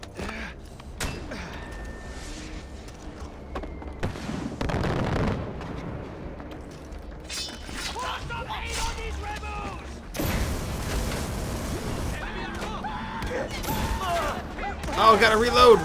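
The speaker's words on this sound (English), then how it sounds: "This guy's got to stop shooting off mortars" Mortar and gunfire in the Far Cry 4 video game, with heavy booming blasts and crackling bursts layered over a dense battle din, growing louder toward the end, with a voice speaking over it.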